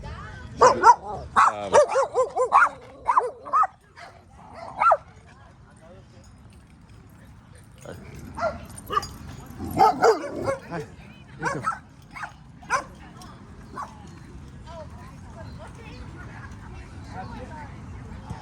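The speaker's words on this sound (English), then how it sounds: "I got too close to the pack, this group of dogs." A group of dogs barks outdoors in a pack, with several quick bursts of barking early on and more scattered barks later, mixed with speech.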